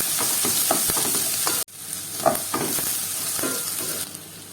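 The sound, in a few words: finely chopped onion sautéing in pan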